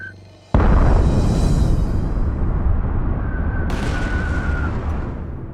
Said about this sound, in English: The Americans have hit our troops with atomic weapons.